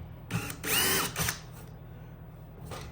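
A countersink bit bores in three short, close bursts of drill whirring, the middle one longest, followed by a faint fourth burst after a pause, in an aircraft baggage door fabrication shop.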